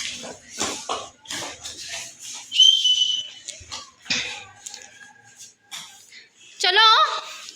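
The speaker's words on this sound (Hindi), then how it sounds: "तुम भी सीटी बजाओ AR क्वीन।" A whistle blown during a blindfold hide-and-seek game indoors, sounding in short shrill bursts between lively talk and laughter, with one loud warbling blast near the end.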